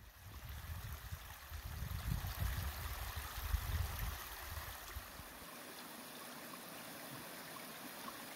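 Water rushes steadily over a beaver dam at Daisy Farm on Isle Royale, a continuous close gurgling flow that is fuller for the first few seconds, then thins to a softer trickle.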